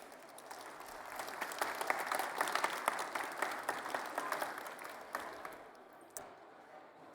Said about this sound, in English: clap if you want.